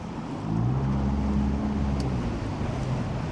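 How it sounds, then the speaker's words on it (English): Wind blows steadily across Lake Sinclair in Georgia, a continuous rushing, buffeting roar with a low rumble underneath that holds at an even level throughout. "Too much wind."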